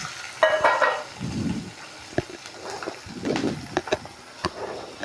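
Cut onion stirred and frying with drumstick leaves in a pan, a soft sizzle broken by several sharp scraping and clinking stirs at irregular intervals, heard close and without talking.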